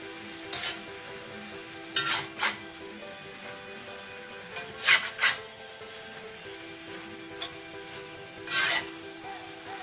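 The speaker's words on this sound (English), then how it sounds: "Mix it all up." Lo mein noodles with bean sprouts being stirred in a hot pan: a constant low sizzle with several short bursts of scraping and tossing spaced a few seconds apart, close up and without talking.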